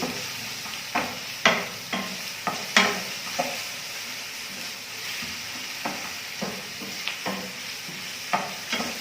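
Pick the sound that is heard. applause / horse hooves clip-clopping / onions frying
onions frying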